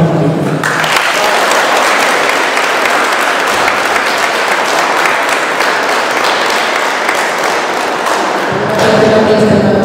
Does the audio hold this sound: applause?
yes